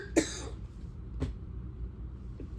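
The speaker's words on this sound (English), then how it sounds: "these coughs come out of the blue" A single sharp cough from someone fighting a cold bursts out near the start, followed by a fainter throat-clearing burst, then quiet room noise.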